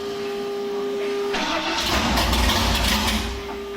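A tuned street race car's engine cranks and catches about a third of the way in, then roars and revs loudly up close before settling toward idle, after a steady tone.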